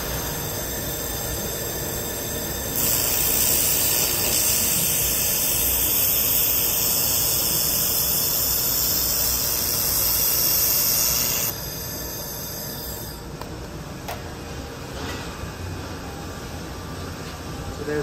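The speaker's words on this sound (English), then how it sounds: "Nice continuous wave laser weld there on the outside corner." Continuous wave laser welding along the outside corner of bent sheet metal, at about 650 watts, produces a loud, steady hissing whine for around nine seconds before dropping back to a quieter background hum.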